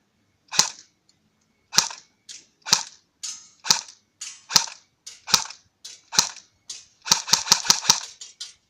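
A CYMA CM035 AKS74U airsoft gun running on a 9.6 volt Tennergy battery fires semi-auto: about a dozen sharp, close cracks, evenly spaced at first, then a quick cluster of rapid shots at the end, against near silence.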